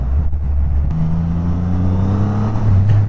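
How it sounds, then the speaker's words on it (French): A Triumph Rocket 3 motorcycle accelerates hard with its rear wheel spinning, a loud, steady engine drone rising in pitch, recorded close up with heavy wind noise. "J'arrive à faire patiner la roue arrière."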